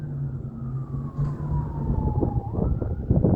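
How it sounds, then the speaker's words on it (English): A fire engine siren wails with a long, slowly falling tone over a heavy engine rumble, then a low growl picks up at the end. "Listen to the sirens."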